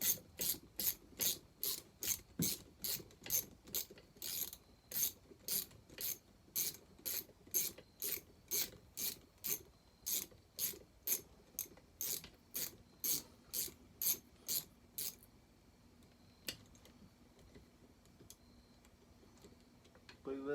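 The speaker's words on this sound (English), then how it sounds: "Use our ratchet for this one real quick." Rapid ratchet clicks loosen bolts on the cylinder of a McCulloch Super Pro 80 chainsaw, a close, steady burst of sharp ticking strokes lasting about fifteen seconds before stopping, followed by quieter handling noises.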